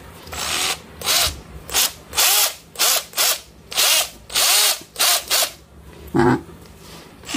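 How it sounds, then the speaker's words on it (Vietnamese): A Lidl Parkside PBHA 12 A1 cordless hammer drill runs in repeated short bursts, close and loud, each whine starting and stopping roughly ten times with brief pauses between, no talking. "Đó là bây giờ là mình khoan á,"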